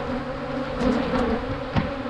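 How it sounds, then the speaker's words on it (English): A dense, steady drone of honey bees fills an open hive, with a few louder individual buzzes passing close by. "I mean, there's a lot of bees in there."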